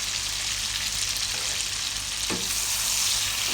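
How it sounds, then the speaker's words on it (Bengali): Tomato stirred and fried in hot oil for a katla fish curry, giving a loud, constant close sizzle with a soft stirring scrape partway through. "তেলের উপরে বেশ কিছুক্ষণ টমেটোটা নেড়ে নিব"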